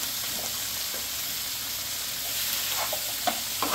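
Guajillo chile and tomato browning together in a pan, giving a continuous close sizzle with a few light stirring clicks.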